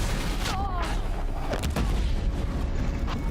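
Explosions go off in the Horizon Zero Dawn video game, heavy booms and blasts layered over dense game noise and scattered impacts, loud and close throughout.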